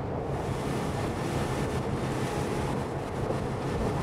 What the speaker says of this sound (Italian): Troppo vento.